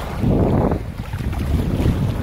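A motorboat carrying passengers runs steadily on open water, its low engine drone close and continuous, mixed with wind buffeting the microphone and water rushing past the hull.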